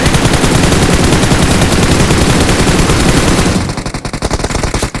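Dense, loud automatic gunfire in a video game rattles continuously for several seconds, then thins into separate rapid shots near the end.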